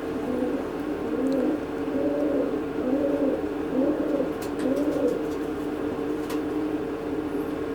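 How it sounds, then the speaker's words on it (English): A racing pigeon coos steadily while being handled, a run of soft rhythmic low coos repeating about every half second over a constant background hum, with no talking. "That's a speed pigeon."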